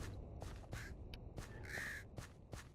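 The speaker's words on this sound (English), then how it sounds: "I've got my crows there, crow noises." Crows caw in a video game, a run of short harsh calls in quick, uneven succession with one longer drawn-out caw in the middle, faint and closely spaced.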